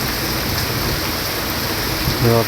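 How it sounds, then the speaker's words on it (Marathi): Steady, dense heavy rain in Dapoli, Konkan, hisses evenly throughout, with a brief low hum rising near the end. "पाऊस पडतो"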